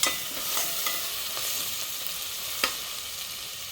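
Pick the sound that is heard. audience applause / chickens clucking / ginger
ginger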